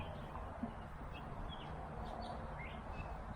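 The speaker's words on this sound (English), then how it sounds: "Those birds." Faint, scattered bird chirps come from a distance over steady outdoor ambient noise on a sunny morning in a cemetery.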